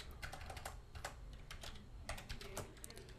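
Quick, light keystrokes clatter on a computer keyboard as a terminal command is typed, irregular taps in short bursts, close and fairly quiet.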